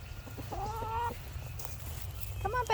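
Chickens cluck in a farmyard, a few short rising calls sounding close over a steady low background hum, with one call near the start and another near the end.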